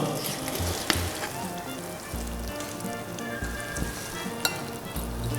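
Meat for Ankara tava, a dish of Ottoman cuisine, sizzles with a close, steady crackle and hiss, with a few sharper pops and low thumps of handling the pan, no talking.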